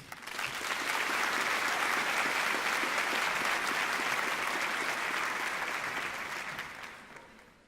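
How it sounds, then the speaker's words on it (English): A large audience at a winter university graduation ceremony gives a long, sustained round of applause, a steady, even roar of many hands that holds for several seconds before gradually fading out. "please welcome her again with a big round of applause"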